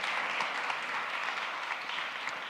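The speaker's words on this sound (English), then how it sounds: "I think we should give another round of applause for all the people that were on stage until this moment." Audience applause at a climate change summit stage, a dense, steady patter of many hands clapping that sustains evenly throughout, heard from within the crowd.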